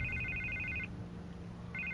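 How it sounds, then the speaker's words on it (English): A telephone rings in a Batman video game: a steady electronic trill that stops partway through, then starts again, heard alone over a low background hum. "I can't get the phone to stop ringing."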